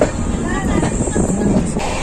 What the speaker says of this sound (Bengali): আমাদের ট্রেন 1 মিনিট লেট করে হাওড়ার 21 নম্বর প্ল্যাটফর্ম থেকে ছেড়ে এখন রওনা দিল কটকের দিকে